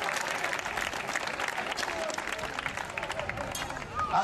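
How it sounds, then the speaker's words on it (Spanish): Sustained applause from a crowd at a wood-chopping (barrenadores) league award ceremony in Trapagaran, with steady dense clapping and faint crowd voices underneath throughout. "Un aplauso fuerte."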